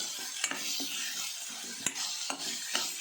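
Beetroot pulao ingredients sautéing in coconut oil, a continuous close sizzle with sharp spatula clicks and scrapes against the pot every half second or so.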